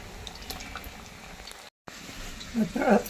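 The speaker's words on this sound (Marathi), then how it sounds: "आपण रताळा तळून घेऊया" Sweet potato pieces fry in hot oil for undhiyu, a steady bubbling hiss that drops out briefly, then swells into louder, busier crackling near the end.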